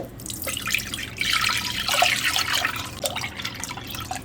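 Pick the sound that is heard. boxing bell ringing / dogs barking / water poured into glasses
water poured into glasses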